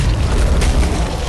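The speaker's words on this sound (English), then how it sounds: "Grenade out." A grenade detonates in the turn-based strategy game XCOM Long War, a loud, dense low rumble sustained across the whole moment, flattening cover and a tree, with no talk over it.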